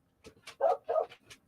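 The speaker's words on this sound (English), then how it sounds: "She's barking at somebody." A dog barks in a quick burst of about four or five close yips and woofs, fairly loud against an otherwise quiet background.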